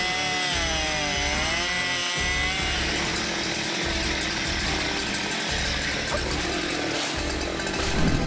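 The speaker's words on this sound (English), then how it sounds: "Steyr MS-500i is the world's first chainsaw with an electronically controlled spray system" A Stihl MS-500i chainsaw cuts through wood in a steady, loud snarling drone, broken by brief dips at regular intervals as each cut shifts.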